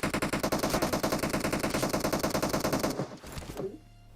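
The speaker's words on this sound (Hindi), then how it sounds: "इतने में ही कोई लोहे के टावर से गोली चलाता है" Automatic gunfire in the PUBG video game: a loud, rapid, evenly spaced burst of shots that runs for about three seconds, then stops with a brief echo and a few fainter sounds.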